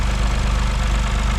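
The three-cylinder engine of a Toyota Corolla GR hot hatch runs close by, a steady throbbing pulse with an uneven, lumpy beat, loud and alone.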